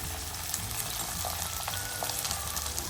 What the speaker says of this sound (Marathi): आणि पूर्ण आता हे फ्राय होईल